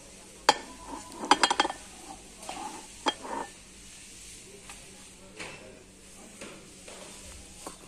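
Small new Kukmara frying pans, Russian-made and single-handled, are lifted and set down, giving scattered sharp metallic clinks and knocks at close range over a quiet room, with a cluster of clatters early on.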